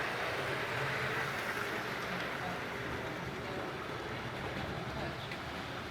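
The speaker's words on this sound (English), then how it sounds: "I hear another train coming. There she goes around the corner." Model trains run through a museum layout, a steady broadband rumble and rattle of wheels on track continuing throughout at moderate, even loudness with some faint background murmur.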